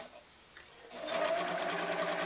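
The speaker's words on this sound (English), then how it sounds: "This is sewing your pocket lining to the actual outer pocket, and attaching it there." Sewing machine stitching the lining to the outer pocket of a zippered wallet, quiet handling at first, then a rapid, even mechanical whirring run of stitching up close.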